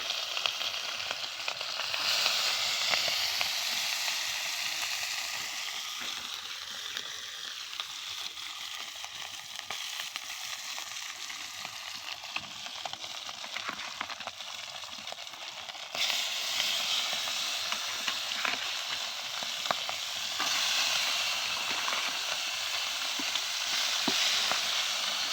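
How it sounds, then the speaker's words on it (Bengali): Fish frying in a pan, a steady hissing sizzle with occasional stirring sounds, close and continuous, growing slightly louder in the latter part. "আজকে আমার রান্না প্রথমেই মাছ ভাজি"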